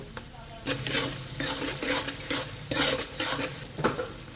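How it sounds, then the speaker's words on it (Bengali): Garlic and onion frying in hot oil at the start of a chicken fry, a dense close sizzle with rhythmic stirring scrapes and pan knocks throughout, no voices. "খানিকটা রসুন দিয়ে দিচ্ছি তেলের মধ্যে এই খানিকটা পেঁয়াজ দিয়ে দিলাম তেলের মধ্যে"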